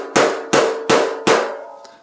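Four sharp metallic hammer strikes on sheet metal for a 1932 Brookville Roadster body at an even pace, each ringing briefly, then a faint fifth tap.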